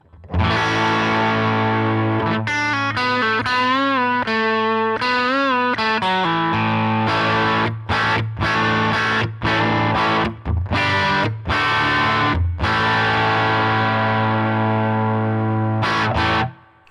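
Distorted electric guitar on the middle pickup through a Line 6 HX Stomp amp model, played alone and loud with sustained chords and quick choppy stops, riffing steadily for about sixteen seconds before ringing out.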